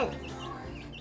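Backyard chickens near a coop built around an old tree stump give a few soft, short clucks, faint and close against a steady outdoor background.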